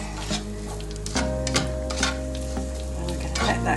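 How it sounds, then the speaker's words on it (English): Onion frying in oil left over from cooking courgette, a steady close sizzle with crackling pops and a low hum, stirred with a few scraping strokes. "pop our onion in to get soft. Give it a stir around"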